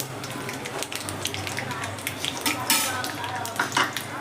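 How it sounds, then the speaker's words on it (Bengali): Curry leaves crackle and sizzle in hot oil after mustard seeds, with a steady frying hiss and scattered stirring clinks; a voice speaks briefly over it. "কারি পাতাটা একটু তেলে নেড়ে নেব"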